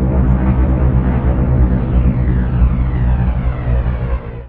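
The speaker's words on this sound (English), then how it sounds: "Bomber." Heavy, low bomber aircraft engine drone rumbles continuously and loudly, with a faint rising whine sweeping through the upper tones before fading at the end.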